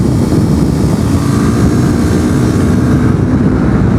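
A 2017 KTM RC390 motorcycle rides a race track held in fifth and sixth gear without high revving, its engine a loud, steady drone mixed with rushing wind noise close to the rider.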